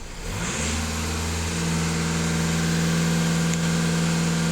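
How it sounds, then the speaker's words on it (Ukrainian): A Volkswagen Passat B8 sits stationary as its engine is revved from idle, rising into a loud, steady hum that holds evenly throughout with no talking. "даю обертів, імітація, що машина їде"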